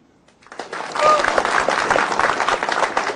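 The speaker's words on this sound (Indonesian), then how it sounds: "Di sini ada yang jomblo, boleh tepuk tangannya?" Audience at a televised stand-up comedy show bursts into dense applause, clapping and crowd noise swelling after a brief quiet start and holding steady and loud to the end.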